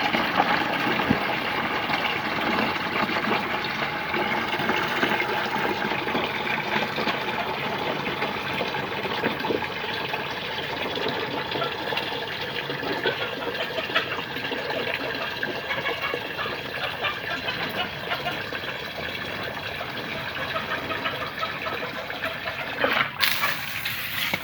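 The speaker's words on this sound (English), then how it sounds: "as the bucket fills. There you go. Slowly filling up in there." Water pours steadily into a bucket that feeds auto-fill cups for a chicken coop. A continuous, loud rushing flow runs for the whole stretch without pause.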